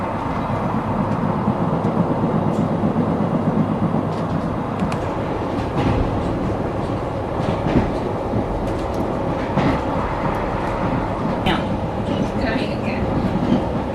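A Swiss cog railway train runs steadily, its wheels producing a continuous rumbling clatter with rhythmic clicks and occasional sharp knocks, heard from on board, with faint voices talking beneath the noise.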